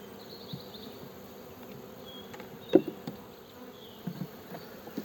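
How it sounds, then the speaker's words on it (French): Honeybees buzzing softly around an opened hive during an early spring inspection, a low, continuous hum with a few brief nearby knocks and handling noises. "avec un tout petit peu d'abeilles."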